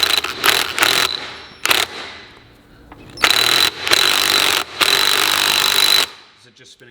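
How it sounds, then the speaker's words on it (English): An aggressive impact gun hammers a $60 specialty socket onto a Porsche 911 drivetrain for a kart build, firing in several loud, rapid bursts with short pauses between them. "Aggressive impact gun."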